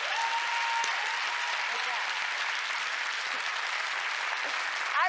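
An audience claps steadily throughout, a dense, even wash of applause at moderate distance with a faint voice barely present beneath it.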